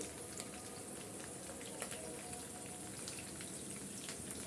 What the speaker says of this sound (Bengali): সব মাংসগুলোই আমি এক একটা দিয়ে দিচ্ছি আর এগুলো উল্টিয়ে পাল্টিয়ে একটু ভেজে নিচ্ছি